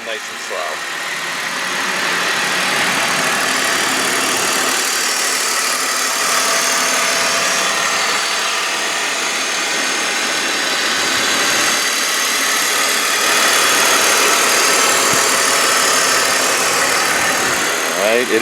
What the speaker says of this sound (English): let you guys listen to the engine